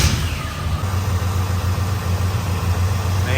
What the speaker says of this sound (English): I'm gonna start the car up, let it warm up, set the fan temperature.